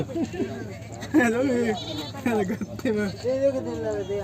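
A goat bleats repeatedly in wavering, voice-like cries at a goat market, close and fairly loud, with a few overlapping calls.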